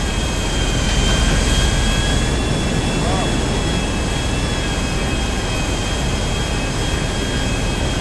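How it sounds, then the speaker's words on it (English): A helicopter flies close behind in a GTA video game, a loud, dense, continuous engine roar and rotor wash that fills the whole stretch without letting up. "Someone shoot that helicopter behind us."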